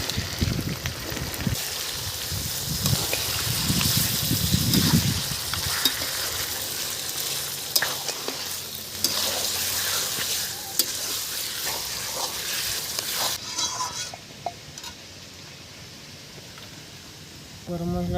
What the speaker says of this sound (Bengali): আদা রসুন দিয়ে আমি মাংসটা 5 মিনিট 7 মিনিট নাড়িয়ে নিয়েছি কড়ায়।